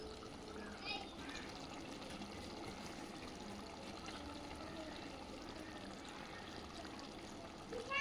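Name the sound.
pouring water into chicken gravy pot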